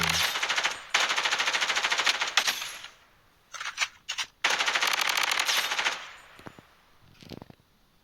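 Rapid automatic gunfire rattles in long bursts with short pauses and a few brief volleys in Blood Strike, a mobile FPS survival game.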